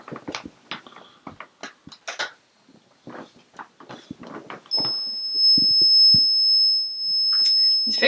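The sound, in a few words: temperature alarm beeping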